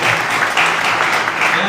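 An audience at a gathering claps together, a close, loud burst of applause that keeps going, with voices mixed in.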